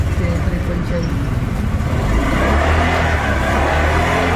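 A Honda Click 125/150 scooter idles and runs with a steady, throaty engine drone that thickens slightly midway. Someone talks over it, close.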